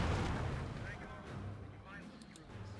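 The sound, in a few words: pack howitzer artillery fire in Company of Heroes 2 video game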